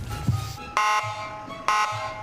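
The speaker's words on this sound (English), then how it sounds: "I wonder if they'll take off with the siren." A loud electronic siren wails in two sharp, repeating bursts over a low rumbling background.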